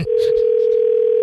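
A phone line sounds its steady, unbroken electronic tone during a call placed live on a morning radio show, loud and close, held alone for the whole short stretch with nothing else over it.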